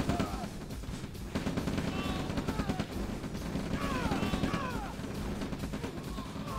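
Rapid V2 rocket launches and impacts in a real-time strategy game battle, a dense run of sharp bangs and crashes over continuous battle noise, with whistling streaks overhead.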